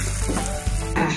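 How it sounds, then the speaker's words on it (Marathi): Spices and red chili powder frying in hot oil for a dal tadka tempering, being stirred as they brown; a loud, steady close sizzle with scraping stir sounds throughout, no voices. "तडक्यासाठी थोडंसं ब्राऊन होईपर्यंत आपल्याला परतून घेऊया"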